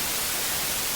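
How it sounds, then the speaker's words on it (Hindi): A truck's radio bursts into loud static at full volume, a dense continuous hiss with no music or voice, steady and harsh from start to end. "रेडियो फुल वॉल्यूम पे बजने लगा। कोई भी गाना नहीं बज रहा था, सिर्फ स्टार्टिंग साउंड सुनाई दे रही थी।"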